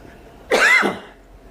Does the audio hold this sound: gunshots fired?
no